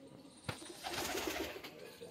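Soft, low cooing from a pigeon close by comes in a short rolling series after a single sharp tap, over faint background hiss.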